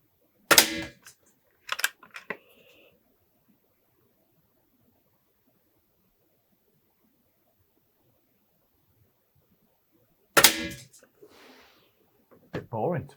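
Air Arms X200 Vanguard PCP air rifle fired at a range, giving sharp, isolated cracks: two shots close together, a long quiet gap, then another shot and a final report, each short and fairly near.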